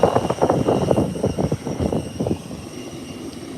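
An Embraer 135 regional jet taxis at Howard Hamilton International Airport, its engines giving a fluctuating, breathy roar with rumbling pulses that thin out and grow quieter toward the end.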